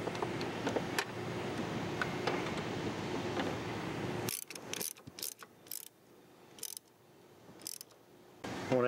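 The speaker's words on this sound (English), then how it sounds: "Do a little tighten with the ratchet." A ratchet tightening nuts on a clutch master cylinder during a clutch master and slave cylinder replacement, giving a run of quick mechanical clicks followed by sparse, separate ratcheting bursts with quiet gaps between them.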